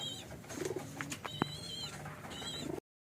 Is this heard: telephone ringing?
no